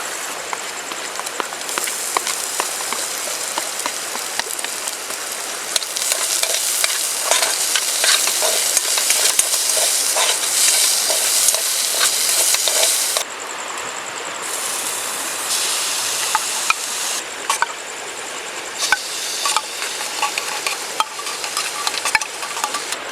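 Potatoes fry in a pan at a riverside campsite, a loud, steady sizzle broken by repeated scraping and stirring clatters close by.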